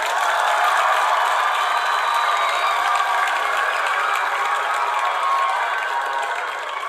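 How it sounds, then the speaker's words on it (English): Steady applause from an audience, a loud dense wash of clapping that holds evenly for several seconds and fades slightly at the end, with no voices over it. "Hold for applause."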